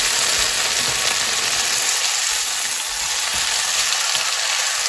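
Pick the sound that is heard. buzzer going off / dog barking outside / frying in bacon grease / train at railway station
frying in bacon grease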